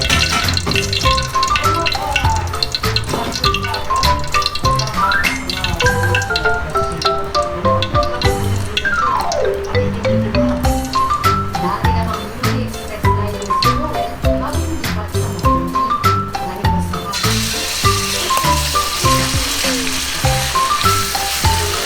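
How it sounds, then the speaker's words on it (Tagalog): Cooking oil heats and spreads in a wok before pork is added for a stir-fry pork noodle dish. It gives a steady sizzle that runs continuously under loud background music. "Painitin ulit natin yung mantika at ikalat natin."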